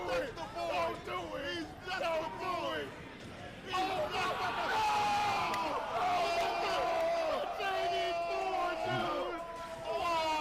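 A Super Smash Bros video game crowd cheers and swells behind a commentator's steady excited talking, the roar rising and holding through the second half.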